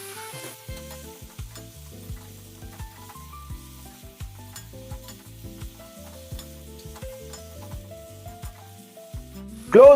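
A spoon stirs turmeric into tomato chutney in a pan, giving soft repeated scraping strokes over a quiet sizzle, with a louder burst at the very end.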